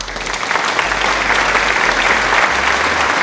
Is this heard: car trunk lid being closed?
no